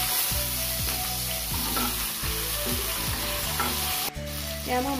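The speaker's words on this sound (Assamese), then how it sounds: "এয়া মই মাছৰ মাথা ভাজি হৈ গ'ল" Fish heads frying in oil in a kadai, loud close sizzling with repeated scraping stirs at a regular pace, a brief dip near the end, no speech.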